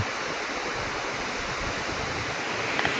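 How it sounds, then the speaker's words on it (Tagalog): A small waterfall in the countryside of Ambaguio, Nueva Vizcaya, rushes in a steady, even roar of falling water, continuous and fairly soft with no voices. "Kasi ito yung falls na maliit dito."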